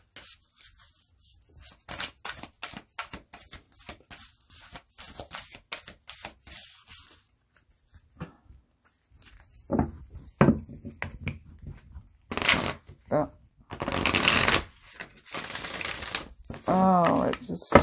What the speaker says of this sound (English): Oh, it just shuffles like such a dream.